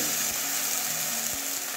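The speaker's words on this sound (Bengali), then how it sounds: "এবারে আদা রসুনের পেস্ট দিয়ে দিচ্ছি।" Ginger garlic paste sizzles in hot oil with fried onions, a steady close crackle and hiss with a few soft stirring clicks.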